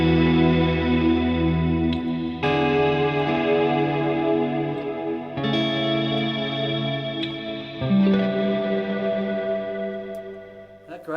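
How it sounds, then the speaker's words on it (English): Sustained guitar chords through a Strymon BigSky pedal's cloud reverb, washed in dense, shimmering reverb, notes blooming and hanging into a continuous ambient swell, with chord changes every few seconds. "Then we have this cloud reverb"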